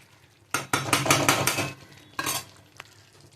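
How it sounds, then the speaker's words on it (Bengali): Chicken curry meat being stirred and scraped in a pot with a metal spoon during frying, a few loud close bursts of clattering and scraping separated by short pauses. "মাংসটা কতটা কষানো হলো আর একটু নেড়েও দেবো, যাতে তলায় পুড়ে না যায়।"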